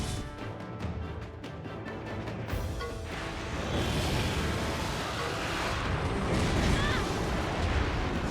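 A dragon's fire breath attack in the Monster Hunter Stories game: a sustained roaring, explosive rush that swells midway and keeps billowing loudly, with no talk over it.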